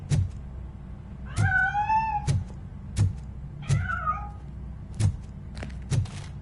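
Cat meowing in the video game Robocop Rogue City: two drawn-out, rising-and-falling meows with soft thuds recurring at a steady beat between them, heard alone without talk.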